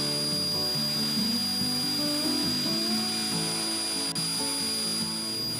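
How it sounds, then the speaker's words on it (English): A belt sander works over pallet wood with a steady, close motor whine and shifting, rough tones as the belt presses and slides across the boards. "it just wouldn't be a wood project unless we busted out the old trusty belt sander"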